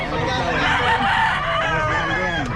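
A pure White Kelso gamefowl rooster crows loudly and close, with clucking mixed in, while people talk in the background at a gamefowl market.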